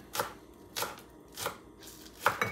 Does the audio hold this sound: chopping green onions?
yes